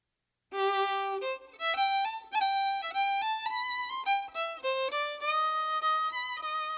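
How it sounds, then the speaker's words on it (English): A solo fiddle plays Peter's lively melody from Peter and the Wolf up close, with clear sustained and quick stepping notes, some double-stops, and no voices. "Peter's played by the fiddle, which is just another name for the violin."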